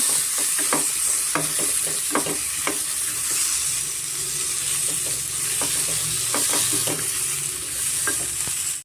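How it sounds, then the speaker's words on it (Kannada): Chopped tomatoes with turmeric fry in hot oil in a pan for raw mango chutney, a steady close sizzle broken by repeated scraping stirs of a spoon throughout, with no voices. "ಟೊಮೆಟೊ ಫುಲ್ಲು ಸಾಫ್ಟ್ ಆಗಬೇಕು ಅಲ್ಲಿವರೆಗೂ ಸ್ವಲ್ಪ ನಾವು ಫ್ರೈ ಮಾಡ್ಕೊಳ್ಳೋಣ"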